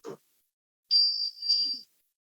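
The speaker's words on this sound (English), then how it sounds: "Let us begin our time together with the sounding of the chimes." A single high, pure chime rings and wavers briefly before fading out, heard alone after a short bump, opening a worship service.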